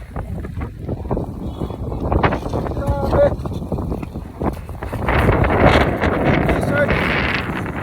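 Strong blizzard wind roars with blowing snow in Winnipeg, Manitoba. The gusts are loud and continuous, swelling toward the end, while a person exclaims over them.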